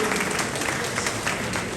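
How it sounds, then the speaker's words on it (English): A crowd applauds steadily, dense clapping blending into a continuous wash of sound for the whole stretch. "Another round of applause, please."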